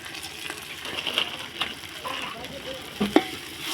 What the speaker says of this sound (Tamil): தக்காளி சேர்த்து நல்லா கிண்டி விட்டுக்கோங்க